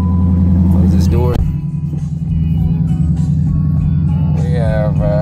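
A Dodge Challenger R/T with an AIRAID cold air intake, 25,000 miles and parked for a week, settles into a steady low idle rumble after starting, up close, while someone talks over it.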